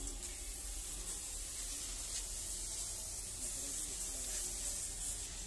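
Continuous steady hiss of paint spraying from a homemade sprayer built from an oxygen cylinder, loud and unbroken throughout.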